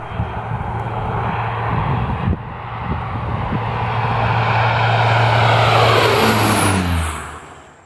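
A Twin Otter propeller airplane in flight gives a steady, loud engine drone with propeller hum that swells and shifts in pitch near the end, heard up close without talk.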